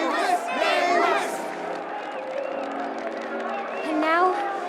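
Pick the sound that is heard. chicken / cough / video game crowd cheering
video game crowd cheering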